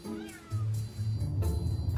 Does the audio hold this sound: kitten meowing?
yes